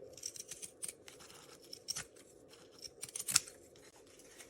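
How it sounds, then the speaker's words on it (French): Scissors snip repeatedly into a fabric seam allowance while a first pouch is being sewn, a run of small, quick, close cuts with crisp metallic clicks, quiet and uneven, with no talking. "je viens toujours cranter ici avec mes ciseaux"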